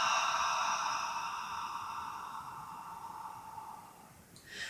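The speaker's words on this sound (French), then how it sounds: "Donc, on continue, on expire." A slow, controlled breath out during an abdominal exercise, a long airy hiss that fades steadily over several seconds, close and soft with no talking.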